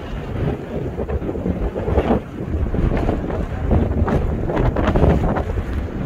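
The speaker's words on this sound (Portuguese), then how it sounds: "aqui venta demais" Strong wind buffeting the microphone at the highest point of Caruaru during the rainy season, a loud continuous roar with gusting surges and no talk.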